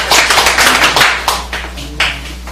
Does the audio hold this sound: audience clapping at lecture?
yes